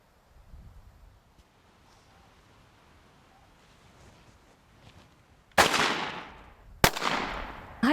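Two loud rifle shots fired outdoors in the Northern Territory bush about a second apart, each a sharp crack with a long ringing tail, after several seconds of quiet rustling.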